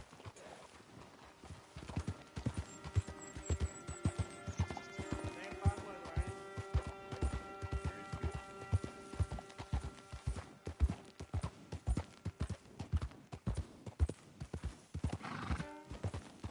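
Horse hooves clip-clop at a steady rhythm through Red Dead Redemption 2, with a horse whinnying partway through and people talking over the hoofbeats.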